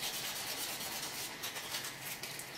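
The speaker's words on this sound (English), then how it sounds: "shine this copper up, get it nice and clean with some inner cloth" A cloth rubs copper clean before brazing, making a steady close scrubbing hiss with no pauses and no voices.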